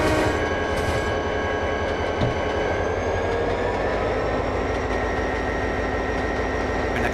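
A freight train in Trainz 2010 rumbles along steadily, loud and close, with a dense, continuous roar of wheels and cars and faint rhythmic clatter throughout, no talking.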